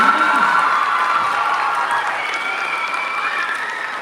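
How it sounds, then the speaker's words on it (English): Applause at a Poetry Out Loud event: a large audience claps steadily and loudly throughout, a dense sustained wash of hands with a few cheers, fading slightly toward the end. "Let's give one more big round of applause for everybody here."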